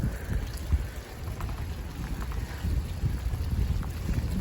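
Steady rain patters and hisses heavily, with a low rumbling undertone, as if heard while walking through a downpour.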